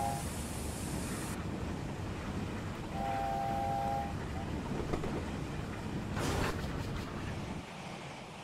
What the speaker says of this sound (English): I do love that whistle. I could blow it all day.